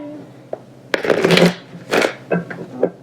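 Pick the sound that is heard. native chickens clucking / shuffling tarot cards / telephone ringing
shuffling tarot cards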